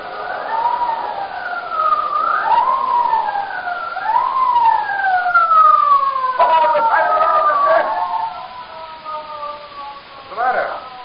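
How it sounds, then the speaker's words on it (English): A patrol car siren wails close by with repeated rising and falling sweeps, rough and loud, accompanied by motor noise from the vehicle. "give him the siren."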